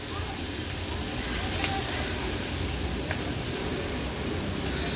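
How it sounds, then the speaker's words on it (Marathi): Spices, garlic and raw mango pieces fry in hot oil for a pickle tempering, giving a dense, steady sizzle and crackle close by throughout, with faint clicks of stirring. "आता व्यवस्थित ही फोडणी आपल्याला शिजवून घ्यायची आहे।"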